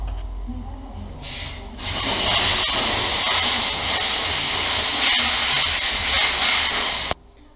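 Oil poured into the engine of a Mini Cooper S being built as a track car, a steady broadband hiss and rush that starts abruptly, runs for about five seconds and cuts off sharply, with no talking.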